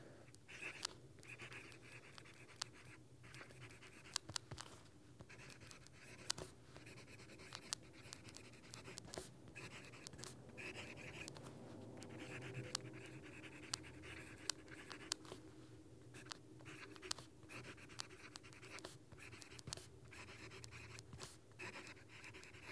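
A Kaweco Dia2 fountain pen writes out a quote on paper, its nib giving faint, close scratching strokes with small taps and pauses throughout.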